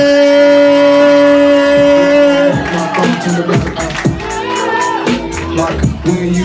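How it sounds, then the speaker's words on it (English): A live spoken-word poetry show crowd cheers and shouts for performer L.J. Hamilton, a loud, sustained swell of whoops and applause close by that runs the whole time. "Make some noise for L.J."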